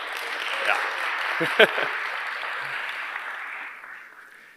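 Audience applause from a crowd at a creator-marketplace tools presentation, steady clapping swelling briefly then fading out over a few seconds, with a short voice spoken over it.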